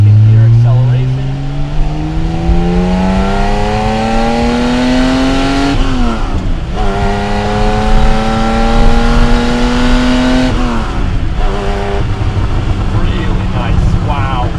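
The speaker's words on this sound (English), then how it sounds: "Here's a little second gear acceleration." A Porsche 911SC coupe accelerates in second gear, its engine note climbing steadily and loudly before two brief dips where revs drop and climb again, all close up inside the car.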